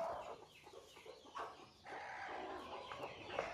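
Hen clucking repeatedly while hatching native country chicks, with a rooster-like call mixed in, steady and fairly close in a farmyard with no talk.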